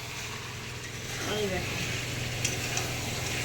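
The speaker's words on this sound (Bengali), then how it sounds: "মাংসটা ভালো করে কষিয়ে নিই" Meat being browned and stirred in a hot pan for a home-cooked birthday meal, giving a steady close sizzle with a few soft stirring scrapes and a faint voice in the background.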